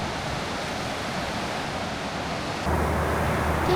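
Ocean waves wash onto a sandy beach at Karatsu in Saga, a steady broadband surf hiss that swells louder near the end, no voices.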